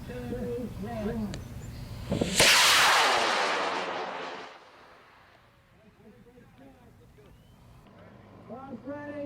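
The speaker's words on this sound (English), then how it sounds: "we're going to go to test of the sounding rocket in 5, 4, 3, 2, 1." A sounding rocket test launch: a sudden loud roaring whoosh bursts out and fades over about two seconds. Voices talk before and after it.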